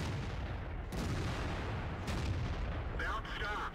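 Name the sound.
tank gun shot and ammo rack hit in video game World of Tanks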